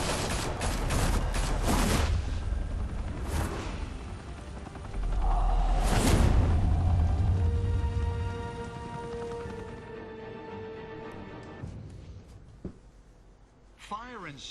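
Gunfire bursts in a Batman Telltale Series video game scene, loud volleys in the first seconds and again around five to six seconds, mixed with speech and game effects before fading to quieter ambience.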